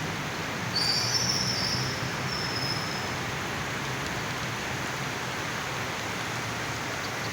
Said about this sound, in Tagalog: Ayan ang weather ngayon, no? Lakas ng ulan.